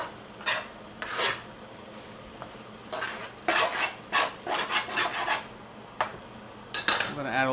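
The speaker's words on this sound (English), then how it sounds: "now, my friends, I am truly going to fry this rice. I want the heat all the way up. I want to move it so it doesn't stick" Peruvian fried rice (arroz chaufa) scraped and stirred around a very hot pan, with a series of rasping, scraping strokes of a utensil against the metal, coming in short bursts at an irregular rhythm.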